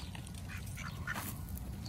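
A large goose calls several times from a distance at a bird sanctuary along the Yellowstone River. The honking calls are faint over a low outdoor rumble.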